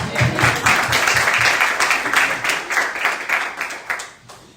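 A church congregation claps to welcome visitors, a lively burst of many hands with a rhythmic pulse that swells early, then thins and tapers off toward the end.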